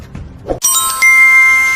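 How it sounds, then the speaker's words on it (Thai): A bright two-tone chime rings out loud and clear after a short burst of sound, its ringing tones lingering and fading slowly on their own, a bell-style notification effect. "อย่าลืมกดกระดิ่งติ๊งๆ เพื่อจะได้ไม่พลาดคลิปต่อไปของเราด้วยนะครับ"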